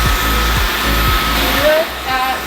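A vacuum cleaner runs continuously up close with a loud, steady whine and roar that dips briefly toward the end.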